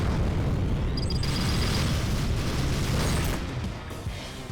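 A missile explosion during a space dogfight in the game Rebel Galaxy Outlaw: a loud, dense, rumbling blast that roars steadily for several seconds, then fades slightly at the end.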